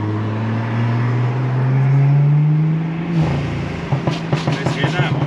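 Exhaust of a tuned BMW N55 engine with an MHD tune, droning loudly as the revs climb, then crackling and popping in quick bursts once the throttle is released.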